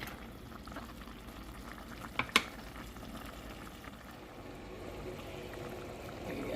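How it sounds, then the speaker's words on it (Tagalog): Steady low bubbling and churning of water boiling in a pot, with a couple of sharp clinks partway through, fairly close, while cooking misua noodles with sponge gourd. "kumukulo na"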